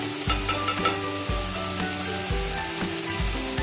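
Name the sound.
ginger garlic paste frying in oil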